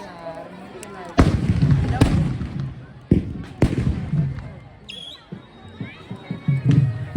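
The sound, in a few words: firecrackers exploding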